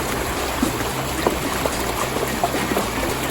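Water flowing over a shallow stream riffle outdoors, a steady broadband rushing and burbling with small splashes, moderately close and continuous, with no talking.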